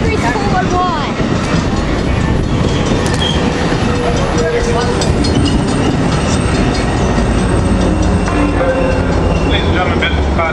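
Amtrak passenger train passing at San Juan Capistrano, a loud, close, continuous roar and rumble of wheels and cars, with people talking over it.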